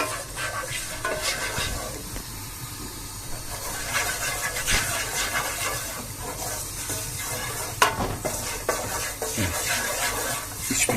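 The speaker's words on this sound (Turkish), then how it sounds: "Şimdi dolmalık fıstıklarımızı kavuruyoruz." Pine nuts roast in a pan and get stirred repeatedly, giving a faint ongoing sizzle broken by irregular scraping and light knocks of the utensil against the pan, with no talk over it.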